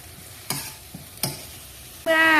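Stewed wild boar being stir-fried with seasoning powder, fish sauce and oyster sauce in a pan: two scraping stir strokes, then a loud sustained sizzle as liquid hits the hot pan, close and with no talking.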